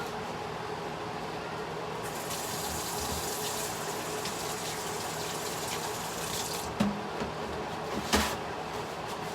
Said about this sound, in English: I'm gonna go wash my hands really quick